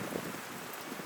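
Rain falls steadily along the Gibb River Road, a soft, even hiss of drops on surfaces, faint and continuous with no voices.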